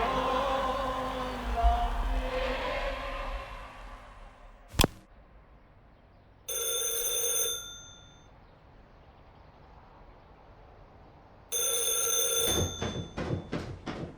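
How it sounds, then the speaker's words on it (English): An old-style telephone bell rings in two separate bursts, each about a second long, loud and clear against a quiet room after a murmur of distant sound. "and the phone rang"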